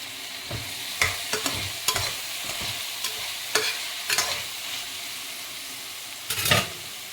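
Tomatoes sizzle in a pan over ginger-garlic paste for a soya chunk pulao, broken by several sharp scraping stirs of a spoon at irregular intervals, close and moderately loud with no talking.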